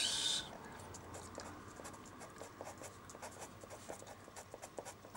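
Soft, steady scratching of a pencil on paper, with short strokes repeating in an irregular rhythm, close up and fairly quiet.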